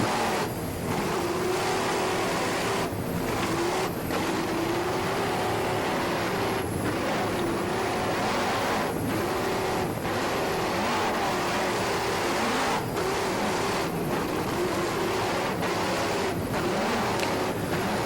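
Offshore race boat engines roaring at full speed, a dense, steady, loud drone of powerful motors and rushing water that holds constant for the whole stretch with no voices.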